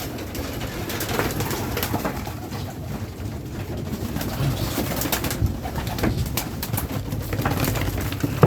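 Pigeons cooing softly and repeatedly over a noisy outdoor background, with occasional fluttering and rustling.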